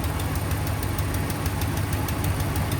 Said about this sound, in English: it's definitely going to be a manifold leak.